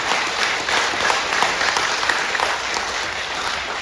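Audience applause at an education award acceptance speech, a dense, loud burst of many hands clapping steadily for several seconds with no talking over it.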